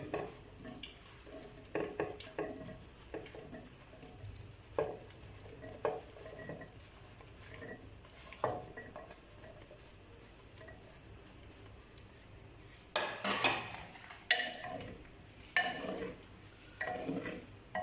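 500 grams of chopped okra (bhindi) frying in a pan with green chilli, a low steady sizzle broken by repeated scraping and clattering of a spoon stirring, louder in a burst near the end.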